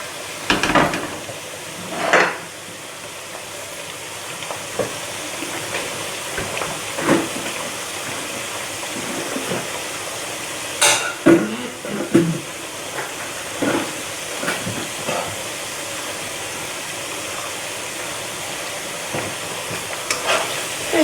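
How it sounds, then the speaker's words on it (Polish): Homemade potato fries hiss steadily in a large amount of hot oil, with occasional louder sizzling bursts and clinks as the fries are stirred. "Ziemniaczki należy mieszać, aby równomiernie się smażyły i nabrały złotego koloru"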